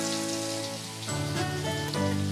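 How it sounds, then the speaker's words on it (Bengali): Chopped onion fries in hot oil with whole cumin seeds, sizzling softly and steadily with small crackles and a few clinks of a utensil against the pan. "পেঁয়াজটা আমি একটু ভালো করে ভেজে নেব"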